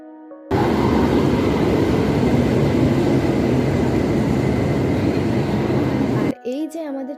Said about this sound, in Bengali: এই যে আমাদের ট্রেন এখন ঢুকে গেছে, আর আজকে আমরা যাচ্ছি ব্ল্যাক ডায়মন্ড এক্সপ্রেসে।